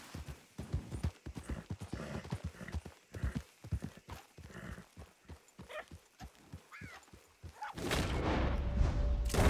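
Horses gallop in the Red Dead Redemption 2 video game with a rapid, uneven clip-clop of hooves that stays fairly close. The hoofbeats give way near the end to a louder, denser burst of game noise.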